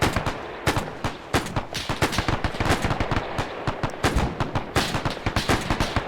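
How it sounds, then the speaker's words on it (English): Machine guns firing from the defences on a beach during a US Marine landing in Arma 3 set in the Pacific: dense, rapid bursts of automatic fire, loud and continuous, with overlapping shots and no talk. "Machine guns are really opening up now on the beach."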